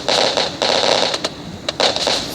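Firecrackers burst in a Diwali video game, a dense run of loud crackling pops with a few sharp separate bangs, close and continuous across the whole stretch.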